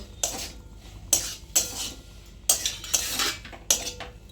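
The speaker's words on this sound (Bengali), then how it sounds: "তারপর দেবো চিলি সস। একবার ভালো করে মিশিয়ে নেব।" A spoon scraping and clinking against a bowl while mixing momo filling with soy, tomato and chili sauces, sharp irregular clatters and scrapes close by, with no talking.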